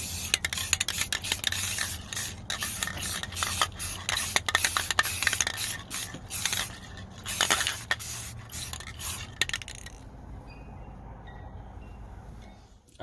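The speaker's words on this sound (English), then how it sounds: "we'll just give them a quick coat of the same metallic gold spray paint" A can of metallic gold spray paint hisses in short, rapid bursts of spraying onto small Christmas decorations, close and steady, then trails off into quiet rustling near the end.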